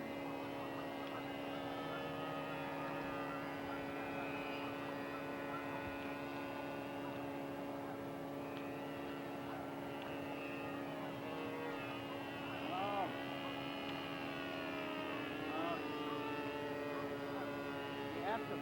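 A radio-controlled model airplane engine drones in flight at a distance, a steady buzzing hum with a few brief rises and falls in pitch during spinning manoeuvres, on an old magazine tape recording.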